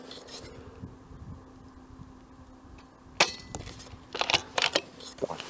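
KalibrGun Cricket tactical mini carbine airsoft rifle fired outdoors, giving a few sharp snapping shots in quick irregular succession after a quiet stretch with a steady low hum.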